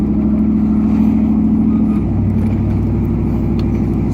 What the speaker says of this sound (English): It's the cocktail bus!